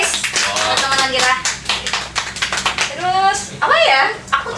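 A small podcast group claps together for friends who got into their dream university programs, quick hand taps running steadily under lively overlapping chatter and laughter.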